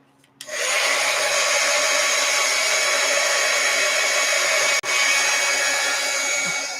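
A handheld dryer blowing on wet paint on an art journal page, switching on abruptly and running as a steady, loud, close whirring hiss with one brief interruption.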